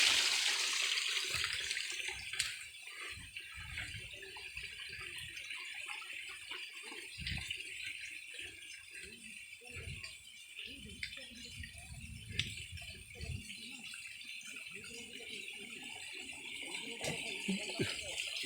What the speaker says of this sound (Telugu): చూడండి చక్కగా దిగి వస్తుంది నీరు